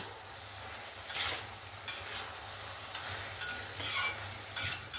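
Fried red lentil bori being stirred into a bottle gourd and chickpea curry, soft scraping and stirring bursts every second or so over a faint, steady simmer, close and quiet, no voices.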